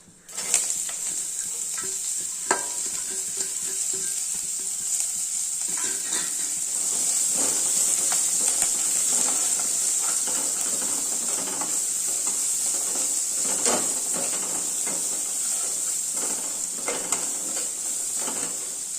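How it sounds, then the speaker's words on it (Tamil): Onion, green chili, ginger and curry leaves sizzle in hot oil along with tempered urad and chana dal for paniyaram, giving a steady loud frying hiss with occasional stirring clinks throughout. "இப்போ வந்து வெங்காயம் பச்சை மிளகாய் இஞ்சி கருவேப்பிலை போட்டுக்கலாம்"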